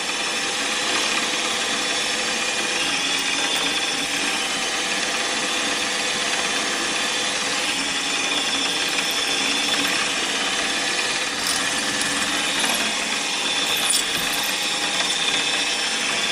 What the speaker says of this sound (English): I'm going to get the other one drilled out, and then I'll come back for when we're reaming.